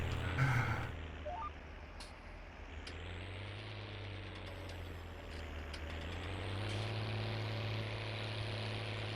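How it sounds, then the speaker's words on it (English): A tractor pulling a disc cultivator across a field in Farming Simulator 19, a steady low engine drone with a faint work rumble underneath and a brief clatter near the start. "it's got a nice sound to it. It's a little bit hard to hear over the tractor, but it does have a very satisfying work sound"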